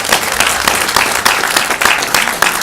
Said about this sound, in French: et vous pouvez l'applaudir, bien sûr